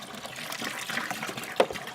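Water poured from a container into a food-safe bucket to make a brine, a soft gushing, splashing fill lasting about two seconds at moderate level, with no talk.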